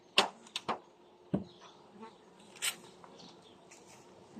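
Honeybees buzz faintly around an open hive being inspected before a colony split, a low hum broken by sharp clicks and knocks of wooden frames and a soft murmur of a voice.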